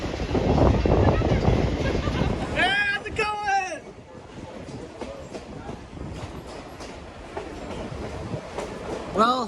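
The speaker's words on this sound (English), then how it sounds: "And now the train is back on its way again." A steam train, NKP 756, rumbles along the rails with rhythmic clatter and a screechy squeal of wheels, loud and close, with a voice talking over it.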